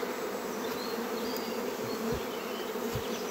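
A honeybee swarm buzzes continuously and up close while being gathered, a dense steady hum with individual bees whining past.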